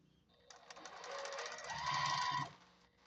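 A sewing machine stitches half square triangles for a quilt top in one short, quiet burst of rapid needle chatter that speeds up, then stops.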